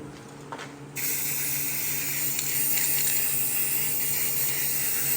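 Spray paint hisses onto engine pulleys, coating them black for a 1971 Dodge Charger 440, a steady broadband hiss starting after a second and running on continuously at close range.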